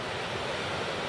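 Ocean surf at Coney Beach on a dropping tide, heard as a steady, dense wash of breaking waves with no pauses, close and moderately loud, mixed with some wind.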